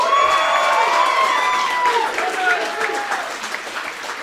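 Live audience at a comedy podcast taping in Philadelphia bursts into dense applause mixed with cheering and whoops, loud and close, tapering slightly toward the end, with voices shouting through the crowd.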